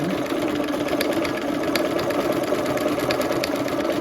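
A sewing machine stitches a buttonhole in pink thread with a steady, close mechanical whir that carries on evenly and alone from start to finish.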